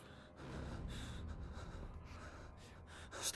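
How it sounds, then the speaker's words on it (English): A character in the horror game Dreadhalls breathes in heavy, ragged gasps and snorts, close and loud, with a sudden louder gasp at the end. "Stop breathing, dude. Stop breathing."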